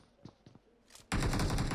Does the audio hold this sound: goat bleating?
no